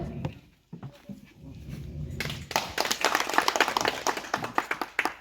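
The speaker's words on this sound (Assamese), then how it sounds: "সকলোৱে যাতে হাত তালি মাৰে" A crowd at a felicitation ceremony during a Bhogali Bihu event bursts into hand clapping partway through, a dense, continuing applause that follows a quieter stretch of murmuring and a brief silence.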